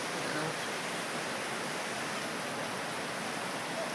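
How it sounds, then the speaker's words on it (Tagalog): A river in Mindoro flows steadily with broadband rushing water, a continuous even wash that holds unchanged from start to finish with no voices over it. "Dito kami sa ilog. Yun ang ilog."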